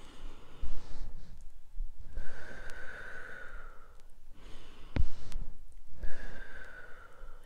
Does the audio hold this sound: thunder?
no